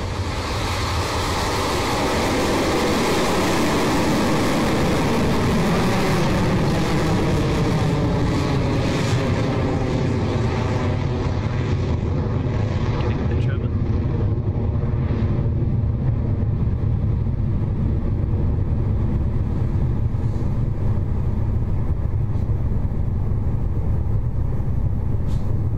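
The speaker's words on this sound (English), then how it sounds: "Electron has left the pad at Rocket Lab Launch Complex 1 in New Zealand" Rocket Lab Electron rocket lifting off from Launch Complex 1 in New Zealand, a loud continuous rumbling roar with crackle that stays strong and gradually thins as it climbs.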